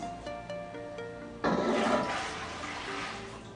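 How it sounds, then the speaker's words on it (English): Water and grated laundry soap poured into a cooking pot: a sudden loud rushing pour starts after a quiet opening with faint tones, then continues as a steady splashing stream that slowly eases. "You're going to pour your soap and 6 cups of water into your pot."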